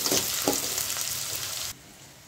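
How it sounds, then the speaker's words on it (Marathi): Onion sizzles in hot oil with whole spices in a kadhai, a bright, steady frying hiss with a couple of crackles, cutting off abruptly near the end to a quiet background. "आता आपण कांदा टाकलेला आहे। आता याला चांगला फ्राय करून घेऊ।"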